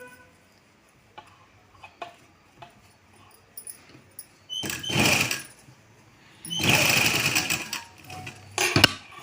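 Sewing machine stitching a salwar, heard as two bursts of steady, close whirring stitching after a stretch of quiet ticks and handling clicks, with a short final run at the end.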